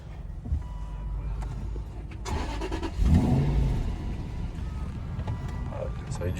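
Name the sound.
sports car engine revving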